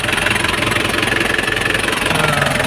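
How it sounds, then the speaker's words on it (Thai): A steady, loud Mitsubishi BD25 red-line diesel engine in a Nissan Big-M pickup idles close by, with a constant rumbling drone and a rhythmic mechanical knock throughout. "ก็อย่างนี้เครื่องยนต์นะครับ เป็นเครื่อง BD นะ BD 25นะ"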